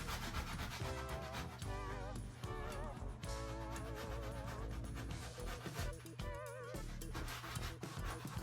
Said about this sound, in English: I am going to have to sand it a little more.